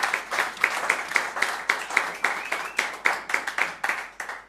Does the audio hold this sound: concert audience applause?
yes